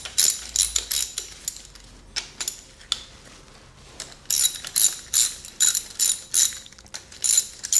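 A ratchet clicks in quick bursts while loosening connecting rod cap bolts to pull a piston from a 1990 Fox-body engine, sharp close rattling strokes separated by brief pauses, with no talking.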